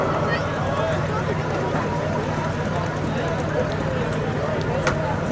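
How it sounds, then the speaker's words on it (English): A nitrous-infused diesel drag truck engine winds up steadily to build compressor boost, giving a dense, continuous roar at an even, fairly loud level throughout. "Got to build up compressors. Slowly doing it. You can hear it winding."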